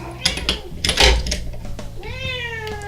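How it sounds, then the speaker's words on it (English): A house cat meows clearly near the end, a drawn-out tonal call after some brief clattering and handling noises at a workbench where a vintage locomotive is being repaired. "My cat approves."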